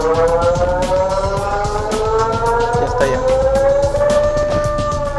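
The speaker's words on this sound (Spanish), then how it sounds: "el receptor la convierte en potentes sirenas que indican al público que está en inminente peligro y debe empezar a evacuar" Tsunami early-warning siren output from a digital TV alert receiver in Peru, a loud, continuous wailing tone with slowly rising and falling pitch, steady over rumbling background noise.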